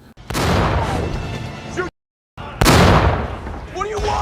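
Anti-tank cannon shots in a war film battle against tanks: two loud, booming blasts with long rumbling tails, separated by a brief silent gap, with whooshing effects over the second.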